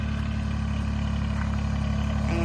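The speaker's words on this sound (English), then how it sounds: "this is our new tractor. A little mini tractor, sub tractor." A new sub-compact mini tractor idles nearby, its small engine holding a steady low, even rumble with a constant vibrating throb throughout and no speech.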